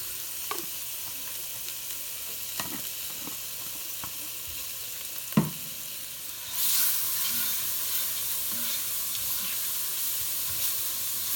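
Minced garlic cloves hit a hot pot for bacon corn chowder, with a few soft stirring taps at first and then a steady close-up sizzle that swells and holds to the end. No one speaks.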